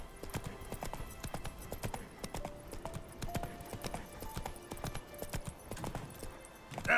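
The horse Roach trots in The Witcher 3, with rhythmic clip-clop hoofbeats at a moderate, even pace, fairly faint over quiet game ambience.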